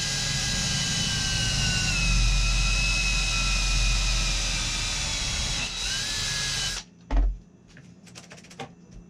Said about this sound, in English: Let's drill another hole.